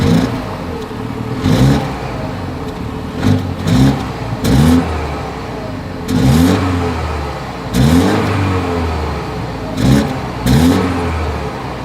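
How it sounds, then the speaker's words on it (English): BMW 228i Gran Coupe engine revved repeatedly through its dual exhaust, loud close blips rising and falling in about seven bursts over a steady idle. "As always, here is that exhaust clip."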